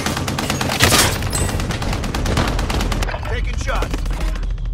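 Rapid, sustained gunfire in Call of Duty Warzone payload mode, with bursts of automatic fire cracking steadily, a heavier boom early on, and radio chatter mixed underneath.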